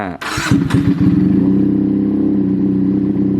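A 2019 Benelli TNT 300 motorcycle engine is started: a brief starter whir, then a few quick firing pulses before it catches and settles into a loud, steady idle close by.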